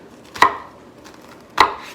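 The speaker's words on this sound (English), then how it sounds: "I'm going to do my diagonal knife slits into the onion to prepare it for chopping." Two crisp knife strikes through an onion hit a cutting board about a second apart, close and distinct, with quiet kitchen background between them and no talking.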